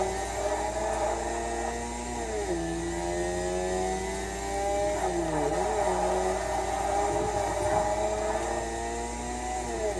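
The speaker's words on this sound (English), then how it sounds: "I do like to rev my engine at the beginning a little bit." A rotary-engined car in the Forza racing game revs steadily at the start line, its engine note whirring and sliding up and down in pitch while holding loud and continuous throughout.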